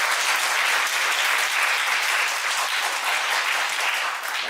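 Steady applause from a church youth-retreat congregation during a worship service, sustained and dense across the whole stretch, fairly close and full, easing off slightly at the very end.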